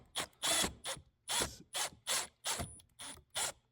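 A star screw on a Ski-Doo Gen4 hood is backed out with a ratcheting tool, giving about eight close, quiet bursts of rapid ratchet clicks in an even rhythm.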